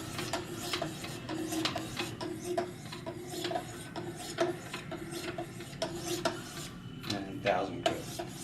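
Knife edge drawn across 1000 grit stones on a Wicked Edge sharpener, a steady series of close, raspy strokes repeating in an even back-and-forth rhythm for several seconds.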